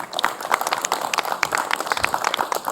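A student audience at an Independence Day stage event led by Madurai Muthu breaks into dense, continuous applause, many hands clapping at once at a steady, lively level.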